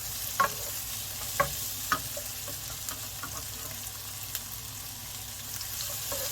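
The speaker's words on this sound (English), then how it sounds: "Always keep it moving. It's called a stir fry for a reason." Noodles with softening onions stir-fried in a hot pan, a faint, steady sizzle with a few sharp scrapes and clacks of the utensil moving the food, heard alone without talk.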